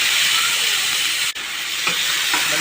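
Finely chopped onions and cumin seeds frying in hot oil, a steady loud sizzling hiss throughout with a brief dip midway and faint stirring taps after, no talking.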